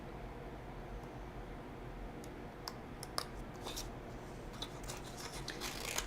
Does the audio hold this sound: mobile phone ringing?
no